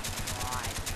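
Rapid automatic gunfire with the trigger held down during a Gun Game match on the Zoo map in Call of Duty: Black Ops, heard as a quick, evenly spaced burst of close shots that lasts about a second.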